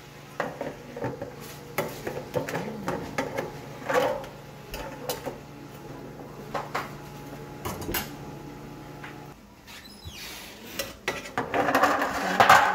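Pan of buttered shrimp cooking on a stove, with clanking metal lid and utensil knocks, light stirring scrapes and a soft sizzle, close and intermittent, then a brighter hiss near the end.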